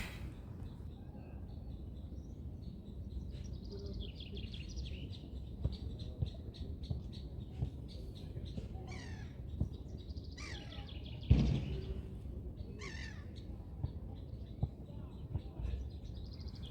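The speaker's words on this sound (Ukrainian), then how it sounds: "Чуєте ці звуки пташок?" Birds chirping outdoors on a morning walk, scattered faint tweets and short calls at a distance over a low background hum, no talking.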